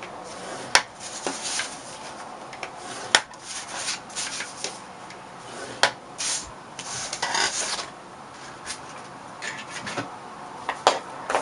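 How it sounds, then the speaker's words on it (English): Daffodil Delight cardstock is scored on a Simply Scored board, giving repeated dry scraping rubs close by, broken by occasional sharp ticks, with no talking. "I'm going to score it on every single side"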